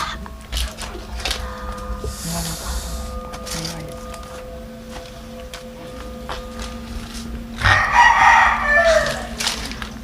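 A rooster crows loudly near the end, a long strained call rising over a steady background hum, with other clucking fowl and people talking at moments before it.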